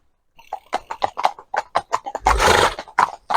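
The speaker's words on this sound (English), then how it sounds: "You can probably hear the horses by this play area" Horses carrying riders pass along a country road near a farm, with several near hoof clops, snorts and a whinny-like burst in a loose, uneven rhythm.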